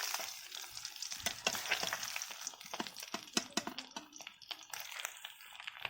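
Whole fish fry in oil with crackling, popping sizzle and sharp intermittent spits, close and moderately loud, with no voices.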